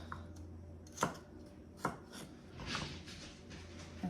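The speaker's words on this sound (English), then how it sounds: "So we are just gonna keep chopping and chopping." Knife chopping celery on a board while making Italian meatball soup: a few sharp, widely spaced chops over a quiet kitchen background, with a softer scraping sound toward the end.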